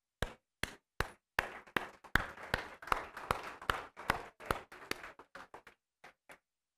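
Applause at a Spanish-language church gathering: a small group's distinct, separate claps in an uneven patter that builds, thins out and stops, with short silences between the last few claps.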